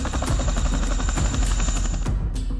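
Chinook tandem-rotor military helicopter in flight, with a rapid, rhythmic beating of rotor blades over a constant loud roar.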